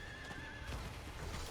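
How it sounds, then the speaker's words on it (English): A horse neighs while being ridden in the video game Diablo 4, a short whinny over steady clip-clopping hooves and a dense background of game ambience. "just jump on your horse, ride the circle"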